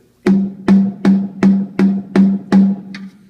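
Seven dull, evenly spaced snare drum hits with the snares off, a low tonal ring and no snare rattle, played alone at a steady moderate tempo.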